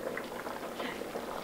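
Gumbo boiling in a pot, faint steady bubbling and popping of thick liquid, continuous and soft with no speech.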